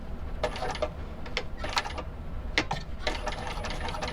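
A sewing machine stitches a shoulder bag at a long stitch length, running in several short bursts of rapid mechanical whirring with brief pauses between them, close and moderately loud.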